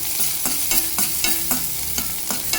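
Onions, dried red chilies, urad dal and curry leaves fry in oil in a pan, with a constant close sizzle and a spoon scraping the pan in a regular rhythm about twice a second, with no talking.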